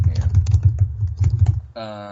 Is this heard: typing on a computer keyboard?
yes